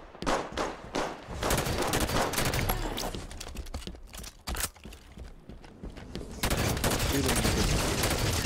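Rapid gunfire in the video game Halo 5, with dense bursts and sustained automatic fire throughout, loud and close, with voices talking.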